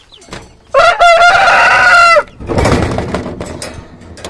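Close and loud, a Pekin bantam chicken lets out a short crow, followed by busy clucking and a bit of wing flapping.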